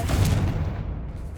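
Spell blasts from Bombarda and Confringo in Hogwarts Legacy, a loud booming burst up front that rolls into a dense, sustained low rumble for over a second.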